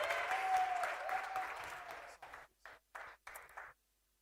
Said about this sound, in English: Please give a warm round of applause to Andrea Kubas.